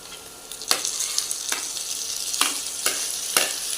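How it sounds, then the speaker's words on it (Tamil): Tomato sautéing in a frying pan after garlic has browned, a steady close sizzle with several sharp stirring scrapes spaced roughly a second apart. "தக்காளியும் ஆட் பண்ணிட்டு வதக்கி எடுத்துக்கோங்க"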